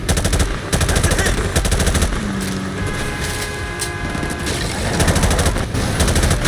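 Sustained automatic gunfire and heavy explosions in the video game Call of Duty Modern Warfare Remastered, a dense, loud battle with rapid bursts and booming blasts continuing throughout.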